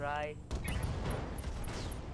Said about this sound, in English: LRM ammunition explosion